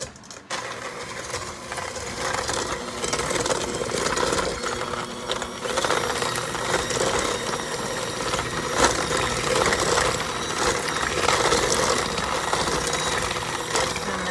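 An electric mixer whirs steadily as it beats vanilla into cookie dough for white chocolate macadamia nut and cranberry cookies, a continuous loud mechanical drone with faint rattling and no talking.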